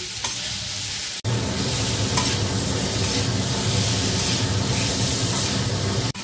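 Paneer pieces fry in a pan for a restaurant-style paneer curry, giving a loud, constant hiss and sizzle as they are stirred, with a sharp clank at the start and another at the end.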